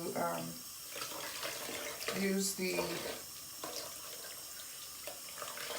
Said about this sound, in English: I'm gonna rinse it out until the color, until the water runs clear.